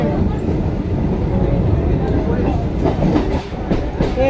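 Kolkata Circular Railway train running on its tracks, a steady loud rumble with rhythmic clickety-clack of wheels over rail joints throughout, with faint voices in the background.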